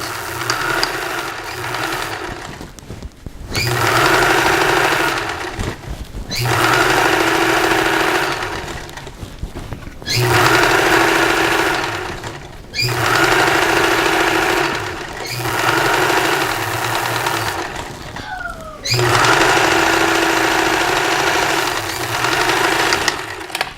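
A sewing machine top-stitching a pillowcase hem runs in five steady bursts of rapid mechanical stitching, each separated by brief pauses, loud and close with no talking.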